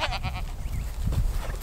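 Goats on a farm bleating in short wavering calls, close by, with low rumbling background noise.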